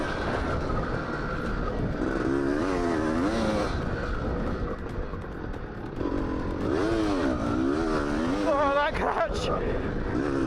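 A dirt bike engine runs steadily while being ridden, its revving rising and falling with throttle changes and a sharp surge near the end, loud and close over wind and clatter.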